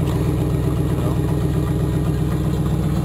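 An old Oldsmobile engine idles steadily after a cold start, a continuous low rumble with an even, unbroken pulse that stays close and loud throughout.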